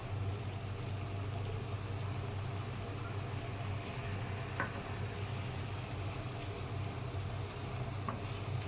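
Oil sizzles steadily in a pan as masala fries for koi fish bhuna, a low, even hiss that carries on without a break and with no talking.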